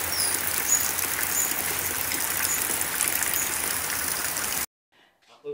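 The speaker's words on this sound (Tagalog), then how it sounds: "It's raining." Rain falls during a typhoon in the Philippines as a steady, close rushing hiss for several seconds, then cuts off abruptly, leaving a faint voice murmuring briefly.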